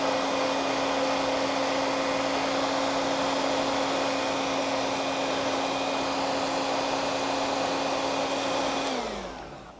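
A hair dryer on medium warms a motorcycle windshield pinlock, blowing with a steady loud whine and airy rush close by, then winding down at the end.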